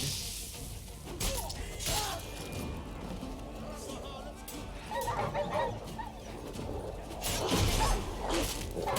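Dogs barking and snarling as they attack during combat in The Witcher 3 at a bandit base, with sharp yelps and bursts of fighting noise over a busy game soundscape.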